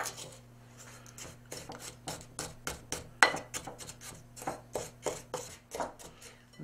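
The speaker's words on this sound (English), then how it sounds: "I'm going to mix in half a cup of regular sugar." Brown sugar and regular white sugar stirred together in a bowl for a crumb topping, heard as a steady run of close, rhythmic scraping strokes, over a dozen of them, with no talking.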